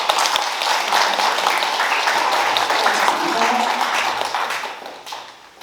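An audience claps together at an outdoor literary birthday ceremony as spring snow falls, a dense sustained applause that holds steady and then tapers off toward the end.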